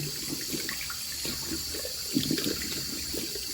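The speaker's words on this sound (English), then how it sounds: "Okay, so I'm going to rinse this off now." A hairpiece is rinsed under a running tap, giving a steady close splashing rush of water with small fluctuations as it moves under the stream.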